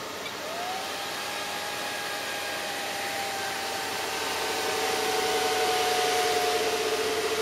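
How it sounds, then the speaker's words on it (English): Server fans on a Tyan Xeon motherboard spinning up at boot in an X-Case RM 206 rackmount chassis, a close, steady whooshing hiss with a rising whine that holds and grows slightly louder. "The fan on the Tyan board with the Xeon processor will be a little bit noisy as it first boots up"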